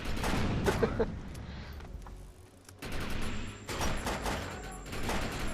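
Pistol gunfire in the shooter game Defiance, a fire-effect handgun and revolver firing in rapid bursts of sharp shots, loud and close, with a brief lull midway before shooting resumes, under faint talk.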